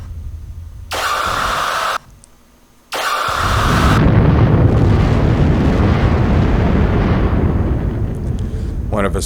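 Weapon fire and explosions in a Space Empires V video game space battle: two short bursts, then a loud roaring blast that swells and rumbles on for several seconds with no talk over it.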